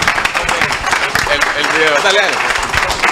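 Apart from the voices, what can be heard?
applause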